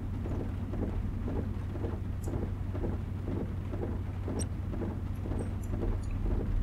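Steady rain on a BR361 (V60) diesel shunting locomotive in Train Simulator 2016, a continuous dense patter with soft rumbling and a low engine hum beneath, even and unbroken throughout.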